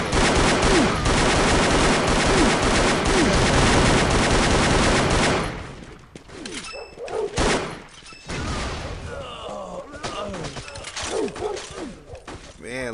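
Rocket launcher fire in the online animal-themed shooter Gundog, a dense barrage of loud blasts and rapid gunfire for the first five seconds, then scattered shots and thuds as the battle thins out.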